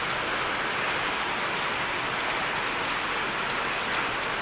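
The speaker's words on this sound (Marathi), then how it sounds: "पावसाचं वातावरण मस्तपैकी आणि पाऊस कसा असं पडतोय मोठं" Heavy rain pouring down in a dense, continuous hiss of drops on surfaces, steady and loud throughout with no letup.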